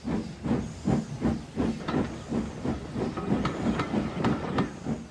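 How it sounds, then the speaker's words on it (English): A steam engine puffs away from a station with passengers, rhythmic chuffing hisses of steam repeating steadily and close, with faint clicking of the train running beneath and no talk. "James collected his passengers and respectfully puffed away."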